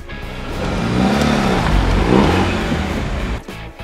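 Car driving off, its engine swelling as it accelerates away, loud and close, then tapering and fading near the end.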